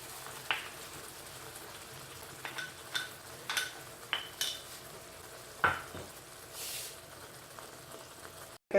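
Milk and ground cashew paste being stirred into a pan of shahi paneer curry, with scattered scraping and clinking stirs and a soft sizzle, fairly close and moderately quiet, no talking.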